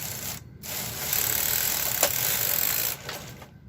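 A domestic knitting machine carriage set to KC2 slides across a row of a Fair Isle toddler yoke, a steady mechanical rubbing and whirring run lasting a few seconds, close and moderately loud, with brief pauses at each end.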